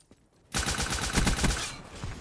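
Rapid automatic gunfire from a gun in Black Ops 3, bursting in loud after a quiet half second and shredding in a fast stream of shots before tapering off.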